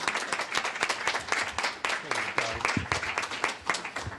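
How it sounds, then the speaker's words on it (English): An audience at a church-style gathering breaks into loud, sustained applause, with dense overlapping claps and some crowd noise throughout. "Please put your hands together and clap for her."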